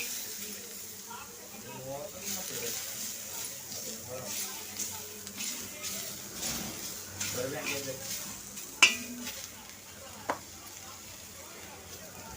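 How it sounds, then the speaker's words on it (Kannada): Chopped onions fry in a pan with a quiet, steady sizzle, broken by scraping stirs and a couple of sharp clinks from a utensil, while a voice talks faintly over it. "ಇವಾಗ ಈರುಳ್ಳಿ ಕಟ್ ಮಾಡಿಬಿಟ್ಟು ಈ ಥರ ಫ್ರೈ ಮಾಡ್ಕೊತಾ ಇದ್ದೀನಿ ನೋಡ್ರಿ"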